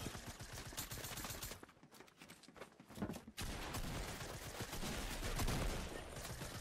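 Rapid automatic gunfire and scattered shots from a Fortnite match crackle almost continuously, dipping briefly before resuming at full intensity, with no talk over it.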